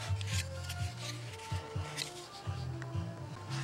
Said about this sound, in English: I moved the sandpaper over because I'm working from both ends toward the middle now